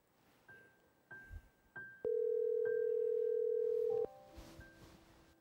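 A telephone line connecting a call gives a few short, light beeps, then a loud, steady tone held for about two seconds, then fainter overlapping tones.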